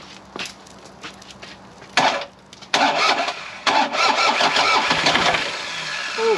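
A Takeuchi excavator's diesel engine cranks in short bursts, then catches and runs roughly at a steady idle, loud and close with no talking.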